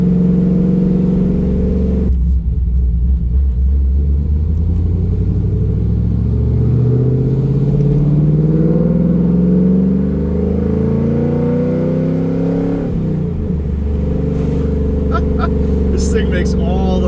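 A cammed Pontiac Trans Am V8 roars loudly and steadily as it accelerates. The pitch climbs through the gears, drops briefly at a shift, then keeps pulling under a heavy, rumbling exhaust note.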